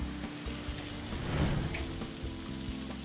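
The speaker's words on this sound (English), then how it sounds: "arrange the shrimp on the grill grate. And soft shell crabs. I love the char on the shellfish." Shrimp and soft shell crabs searing on a hot grill grate, a steady close crackling sizzle throughout with no voices.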